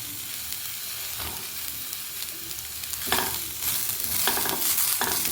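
Sliced onion and ginger frying in a pan for a green chilli dish, a steady hiss that grows louder midway, with several bursts of stirring and scraping up close and no voices.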